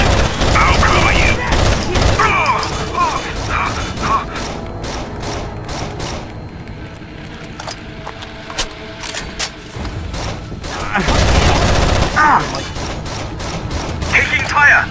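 Rapid bursts of gunfire from Rainbow Six Vegas, a tactical shooter, with dense volleys at the start and again later, lighter scattered shots in between, loud and close, with game voices calling out over the firing.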